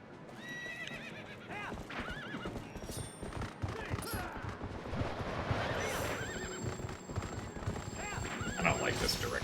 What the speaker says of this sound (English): Let's have a good horseback Ganondorf